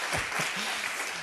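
Conference audience applauds in a large hall, a brief burst of dense, even clapping at moderate distance with a voice briefly heard over it.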